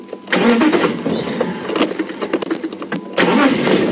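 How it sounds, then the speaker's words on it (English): A safari vehicle's engine cranks and catches close by, with rough sputtering bursts settling into a steady idle rumble toward the end. "So I'm going to move our vehicle,"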